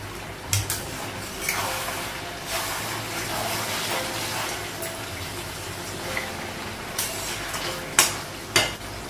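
Curry masala frying in a pan on a home kitchen stove, a steady low sizzle running underneath, with a few sharp clinks and scrapes from a spoon against the pan.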